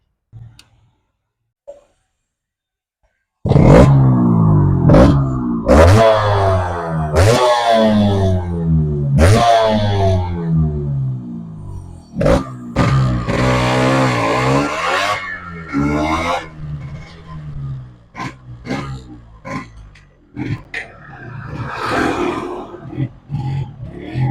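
A well-maintained original Yamaha RX 135 two-stroke motorcycle fires up after near silence and is ridden. The engine note is loud and close, revving up and down repeatedly with sharp bursts and throttle changes.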